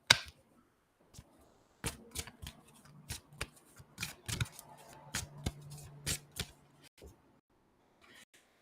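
Oracle cards of the Everyday Goddess deck are shuffled with a run of crisp, irregular snaps and riffles, close and quiet in a still room, with no talk.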